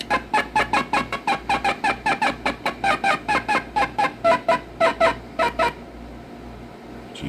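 A hen call in the hunting game Deer Hunter 1997 plays as a long, evenly paced series of about two dozen loud, clucking yelps. The calls stop abruptly, leaving a faint hum.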